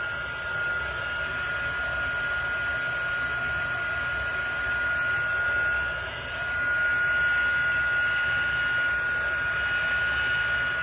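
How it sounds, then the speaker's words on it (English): A heat tool blows a steady, loud whirring stream of air as it dries shimmery ink on a Christmas stamped card, holding an even drone with a faint high whine, dipping briefly midway and then running on alone. "if you use a heat tool, it'll go a little faster"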